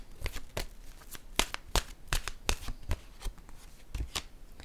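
Tarot cards being shuffled up close, a quick run of crisp, papery riffles and slaps in an uneven rhythm, fairly soft, with no talking.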